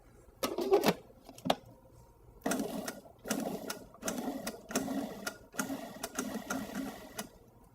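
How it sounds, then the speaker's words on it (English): Food processor lightly pureeing cucumbers in a kitchen, delivered as several short whirring pulses of a few seconds each, separated by brief pauses, moderately loud and close. "We're going to add the cucumbers. And just lightly puree them."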